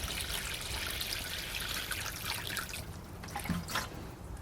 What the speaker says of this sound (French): On met un petit peu d'eau au fond.